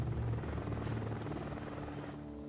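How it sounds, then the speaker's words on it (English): Helicopter in the game Evil Genius lifting off, a steady loud rotor drone with a low thrumming pulse that holds for the whole stretch and eases slightly toward the end. "Helicopter is taking off."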